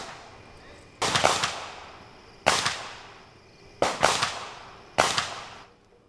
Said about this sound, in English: That was gunfire our crew recorded while on the scene.